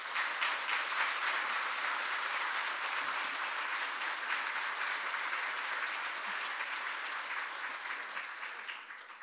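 Sustained audience applause at a church special dawn prayer service welcoming the pastor to the pulpit, a dense even wash of many hands that holds steady for about nine seconds and tapers slightly at the end.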